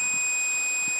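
A multimeter's continuity tester gives a steady high-pitched beep while checking the fuse in a DeWalt dual battery charger, a single continuous tone with faint handling noises underneath.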